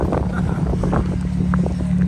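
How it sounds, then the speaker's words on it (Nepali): Strong cold wind gusts at Bumla Pass, a high mountain pass near the border in Arunachal Pradesh, roaring as a loud, constant rumble against the microphone with faint voices mixed underneath. "हावा पुरा डल्लो चल्दो छ"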